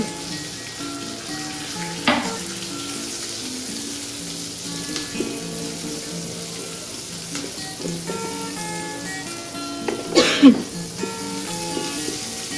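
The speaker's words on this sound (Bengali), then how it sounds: "দেখো পেঁয়াজটা হালকা একটু ভাজা হয়েছে" Onion and chopped garlic fry in oil in a home kitchen, a soft continuous sizzle with occasional stirring and a short cough partway through, with no talk.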